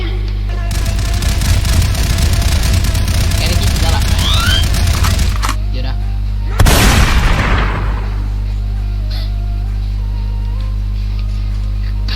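Gunfire in the Roblox game Jojo Tycoon, a loud, dense burst of rapid shots for several seconds, then silence broken by one sharp blast that fades out slowly.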